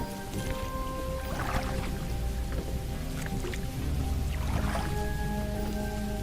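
Rain patters and drips steadily, with soft splashy bursts and a low continuous wash, no talking.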